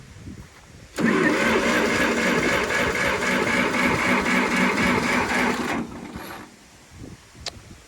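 A Case backhoe's engine cranking over as it tries to start: a loud, rapid, rhythmic churning that runs about five seconds and then stops, leaving quiet with a faint click.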